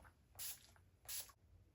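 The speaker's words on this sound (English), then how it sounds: "Setting spray again." Setting spray misted onto a face during a cruise makeup routine: two short, quiet pump bursts of fine hiss, each about a quarter second, with a pause between them.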